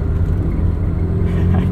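Interior ride in a 1984 Ferrari 512 BBi on the road: a steady, close, low engine rumble and drone continuing without pause, with no distinct revving.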